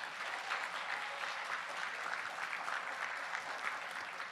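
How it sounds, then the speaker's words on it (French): An audience at a big band concert applauds the first trumpet player with sustained, even clapping from a crowd, heard at moderate distance without talk. "j'aimerais qu'on fasse un immense applaudissement pour M."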